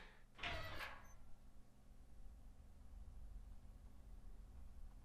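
A door on a rooftop sliding open with a short rushing scrape in a visual novel video game, followed by steady quiet background hiss.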